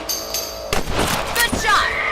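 Sharp gunshots from a rifle in the Red Dead Redemption video game, fired while hunting rabbits, several cracks in quick succession with faint background game sounds.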